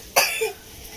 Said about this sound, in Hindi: इसलिए खांसी हो रहा है।